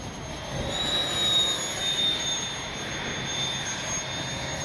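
An FMS 70mm A-10 Thunderbolt II RC jet flies past with a steady, loud ducted-fan whine and whoosh, the thin high tone holding over a broad rushing roar.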